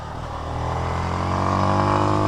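An SWM Outlaw 500 motorcycle engine pulls from low revs on a small winding road, a steady single-cylinder drone that rises smoothly in pitch and loudness over about two seconds.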